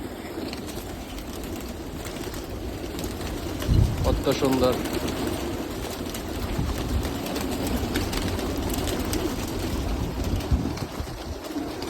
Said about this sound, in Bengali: এই যে এই যে কবুতর কি সুন্দর